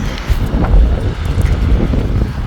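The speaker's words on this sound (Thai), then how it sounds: "แดดดี แดดออกดีดีแต่ลมแรงทุกคน" Strong wind blows outdoors on a sunny day, buffeting the microphone in a loud, continuous rumbling roar with gusty swells and no speech.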